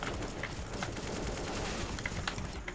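Rapid gunfire from a shooter video game played on a GTX 1050 Ti graphics card, a dense continuous crackle of shots with sharper bursts standing out, steady and fairly loud throughout with no talk.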